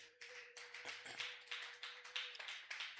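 A church congregation claps in a steady, rhythmic beat, loud and close, with sharp repeated hand claps forming a lively pulse and no talking over it.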